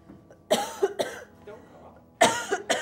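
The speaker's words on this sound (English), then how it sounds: "No coughing allowed." A few sharp, close coughs in quick bursts, one pair near the start and another pair near the end, with quieter breathing and throat noise between them in an otherwise still room.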